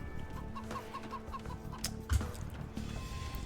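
Clucking chickens from an Age of Empires-style AI match, as a player's villagers start gathering from the flock. Short clucks and calls repeat softly over game ambience and background sounds, with one brief louder thump near the middle.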